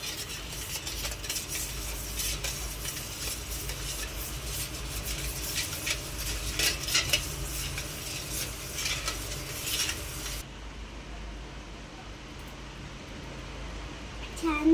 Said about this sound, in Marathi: आता मी परत ढवळते।